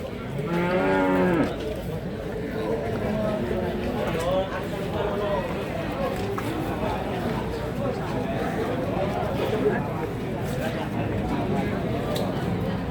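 A cow moos loudly and close at the start, followed by a busy cattle market in Tuban, Indonesia, with bulls for sale, people chattering and animals shifting throughout.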